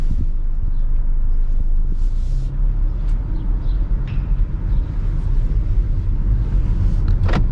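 A 2020 Honda Accord 2.0T drives along, heard from inside the cabin as a steady low engine and road rumble, with a few faint clicks and rustles and no voices.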